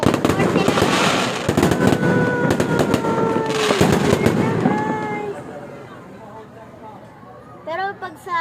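Mall fireworks at SM seen from a home window, a dense run of crackling bursts and pops at middle distance that thins out toward the end, with people talking throughout.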